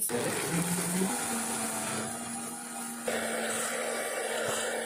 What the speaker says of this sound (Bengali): আমি এখন এটাকে মিক্সারে দিয়ে দেবো। এটা এখন মিক্সড হবে